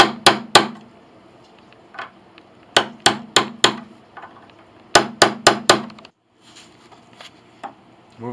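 Sharp hammer taps on the bridge pins of an 1881 Steinway Model A piano being evened, quick clusters of two to four strikes separated by short pauses, close and clear.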